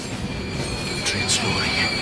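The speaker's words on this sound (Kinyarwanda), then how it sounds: "gari ya moshi itangira kugenda gake gake" A train starts to move slowly, its wheels giving a sustained high metallic squeal with rising whistling tones over a low rumbling drone, while faint voices sit in the background.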